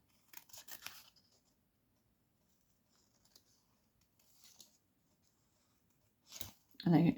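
A few crisp snips and slicing sounds from scissors cutting paper in short bursts, near and quiet, followed by a voice.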